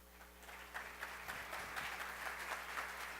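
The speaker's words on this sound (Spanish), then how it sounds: "Un aplauso, por favor." A conference audience gives faint, continuous applause for a speaker at a talk on urban mobility, heard as a soft, even patter of many hands in a hall.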